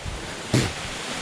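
Water pours steadily at Panasa waterfall near Madanapalli, a soft, even broadband rush heard from some distance, broken by one brief louder burst midway.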